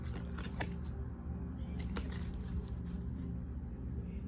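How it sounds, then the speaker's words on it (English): A deck of tarot cards is shuffled during a reading, giving soft, close riffling and patting bursts in quick irregular clusters over a low steady hum. "I'm gonna shuffle one more time"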